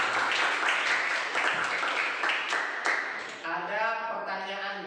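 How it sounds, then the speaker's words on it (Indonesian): Classmates in a school classroom clap for a student for about three seconds, a dense patter of hand claps that then gives way to a voice speaking over the fading noise. "sebelumnya tepuk tangan dulu buat Iqbal"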